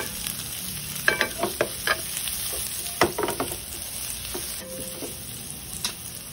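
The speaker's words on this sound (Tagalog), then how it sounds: "pagkatapos natin igisa ang ating luya at ginisa naman natin ang ating sibuyas" Sliced ginger and onion sautéing in a pan for beef escabeche, a steady close sizzle with scattered scraping stirs and clatters of a utensil throughout.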